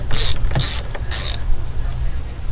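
A ratchet clicks in three quick bursts while loosening a nut on the thermostat housing of a 2011 Dodge Caravan with the 3.6 engine, close and loud, then a quieter pause.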